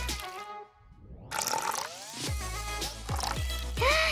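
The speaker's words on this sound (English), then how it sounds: "Let's water our garden properly, like this." Water is poured from a small toy container onto a plasticine toy garden, giving splashy trickles and a run of short dripping pours with bubbly, squishy gurgles, close and fairly loud, with no talking.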